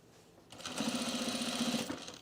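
Sewing machine running a short burst of stitches on cargo shorts, a quiet rapid mechanical chatter that starts abruptly, holds an even pulse for over a second, then stops.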